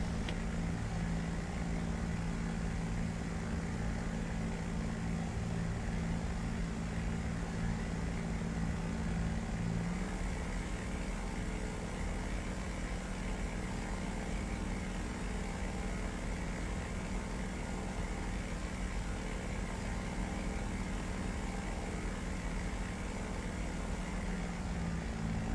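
A steady, droning propeller engine roar from World War II fighters such as the Hurricane Mk II and Spitfire Vb in a flight sim runs unbroken throughout at moderate level, with no voices.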